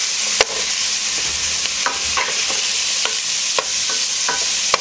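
Bacon chunks frying in a pot for New England corn chowder, a bright, continuous sizzle close up, punctuated by regular scrapes and taps of a utensil stirring, with no voices.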